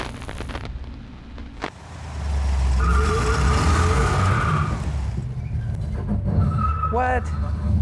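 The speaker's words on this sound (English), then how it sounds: "Sounds like the brakes." A 1970 Plymouth Cuda 383 engine rumbles loudly, then a high brake squeal rises and holds for a couple of seconds, followed by short chirping squeaks near the end.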